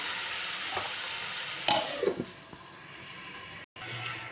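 Onions and tomatoes frying in a pan, a steady soft sizzle with a few scraping stirs of a spoon partway through, close and moderately loud, with no talking.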